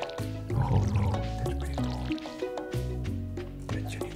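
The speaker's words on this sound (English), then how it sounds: "I'm starting to water all my plants" Watering can sprinkling crops in the Stardew Valley farming game, a soft wet splashing and dripping burst that swells briefly, then fades into light droplet sounds over steady game music.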